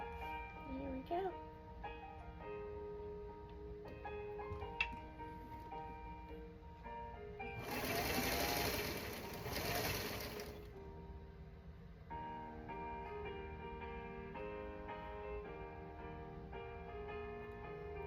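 A sewing machine stitches quilt block pieces in one burst of about three seconds, a close, loud mechanical whir between quieter stretches of background music.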